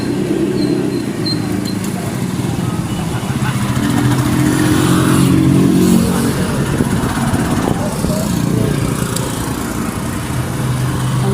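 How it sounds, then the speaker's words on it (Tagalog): A red motorized tricycle draws near with a steady, loud engine drone that swells slightly as it arrives, its rumble continuous throughout with no pause. "Ayan guys, tricycle na pula. Ayan na yung hinihintay ko."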